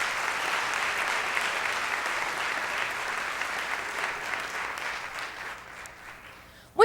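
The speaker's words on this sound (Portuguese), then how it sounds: "Uma salva de palmas para os nossos irmãos," A congregation at a church dance service applauds, a sustained wash of clapping at moderate volume that slowly thins and softens toward the end.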